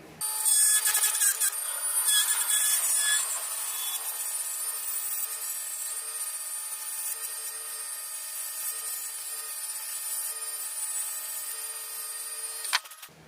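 A lathe turns a purpleheart wood pen body as a tool cuts it, giving a steady, close, high whining hiss with a harsher scraping start that settles into an even drone before stopping.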